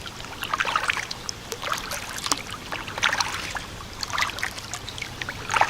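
A kayak is paddled through shaded water on the Union Canal, with rhythmic splashes and drips from the paddle blades recurring every second or so, close and moderately loud over a gentle watery backdrop.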